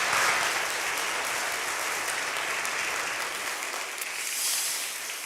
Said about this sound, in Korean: 우리 모든 어머니들께 감사의 박수 드리겠습니다